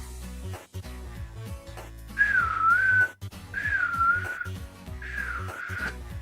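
Eerie, wavering whistled tones drift in three drawn-out phrases over a low droning musical bed, rising and falling in pitch with short gaps between them.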